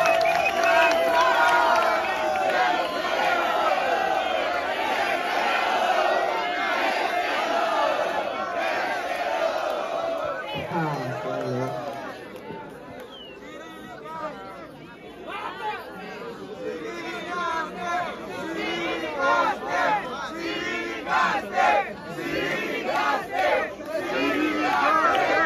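Crowd at a Brazilian rap battle cheers and shouts loudly, a dense wash of voices and whoops that dips briefly mid-clip then swells again with bursts of yelling and chatter.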